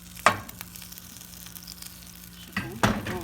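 Dosa batter of rice and lentils sizzles on a hot pan with a steady soft fry, broken by a couple of clattering spoon scrapes and knocks, close and with no talk.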